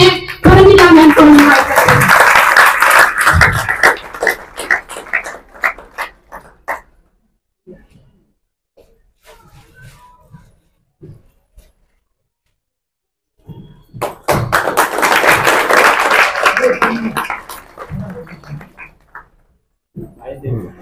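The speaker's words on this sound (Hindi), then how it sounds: "आप सबकी जोरदार तालियों के बीच में" Audience applause at an ashram gathering: a dense burst of clapping for about six seconds, a quiet pause, then a second long round of applause, loud and close.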